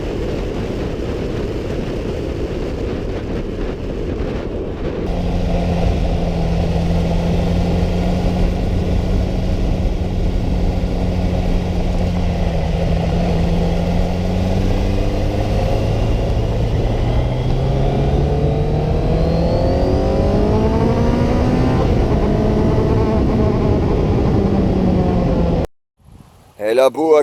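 Onboard ride on a Kawasaki Z900 RS Café motorcycle, the engine droning steadily and then climbing in pitch through rising revs as it accelerates, loud and close, with a brief cut near the end.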